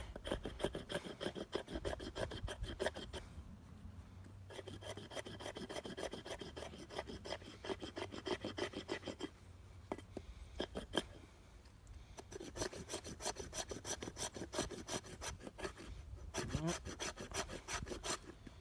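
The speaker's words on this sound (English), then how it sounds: "See if we can just get a little bit of shavings off there." An Alonzo Tracker knife blade shaves curls off wood in long, loud, close rasping strokes, several runs of steady scraping separated by brief pauses, with no talk during the cuts.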